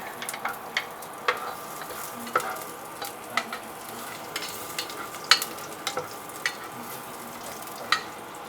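Ginger fries in a pan with a low, steady sizzle, punctuated by scattered light clicks and taps of a utensil stirring, close by and without talk.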